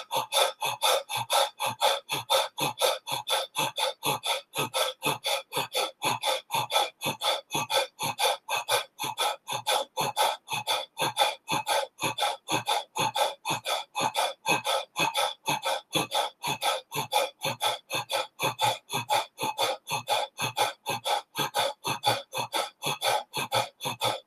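Fast, steady breathing from a breathing exercise, with quick breaths at about three per second that hold an even rhythm for the whole stretch. The breaths are close and clear, and no one speaks.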